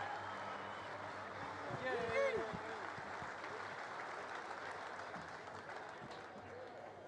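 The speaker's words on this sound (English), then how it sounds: "A round of applause for the McCarrolls and everything they do for this event." Race fans applaud across the grandstand at Southern Iowa Speedway during opening ceremonies at the Front Row Challenge, a steady, fairly distant wash of clapping with faint voices and crowd noise mixed in throughout.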